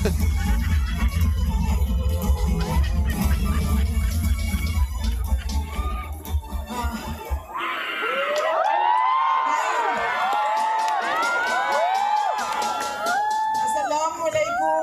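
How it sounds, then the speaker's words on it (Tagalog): A large political rally crowd cheers, whoops and shouts loudly and continuously for Vice President Sara Duterte, the roar swelling into higher yells partway through. "Pabayaan mo na sumigaw ang tao."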